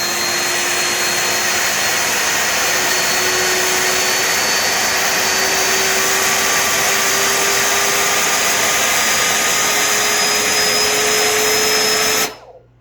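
FPV drone motors whine at a steady high pitch under fixed throttle on a heavy 'death machine' build, loud and close for about twelve seconds before cutting off abruptly.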